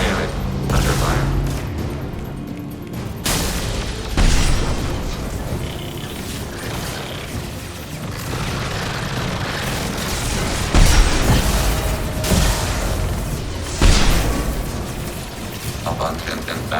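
Gunfire and explosions during combat in Mass Effect 2 on Insanity difficulty, with bursts of shooting, heavy booms and mechanical clatter over several seconds, mixed with voices.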